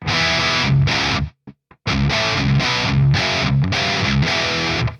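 Loud, heavily distorted electric guitar chugging through a Revv Generator 100R MK3 amp with reverb set low, with a brief near-silent gap early on, dry with little reverb.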